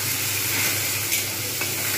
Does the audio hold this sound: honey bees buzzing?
no